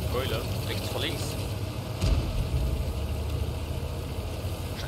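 A tank engine in World of Tanks, playing the Dicker Max, drones at a steady low idle, with a louder rumble midway and someone talking over it.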